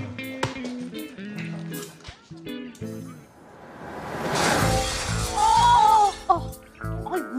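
Glass shatters in a broad, noisy crash that swells and lingers for a couple of seconds, with people talking before and after it.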